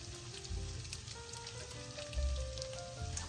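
Potatoes fry in a skillet for a one-dish dinner, giving a steady, faint sizzle and crackle close by, with a few soft bumps as the pieces settle, and no talking.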